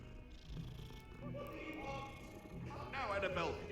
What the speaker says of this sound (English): You can pet the cat!